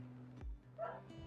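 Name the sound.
dog barking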